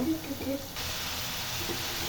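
Steady sizzling of meat frying for biryani in a pot over full heat as its water cooks off, a broad hiss that rises and holds after a brief softer start, with faint voice-like tones early on.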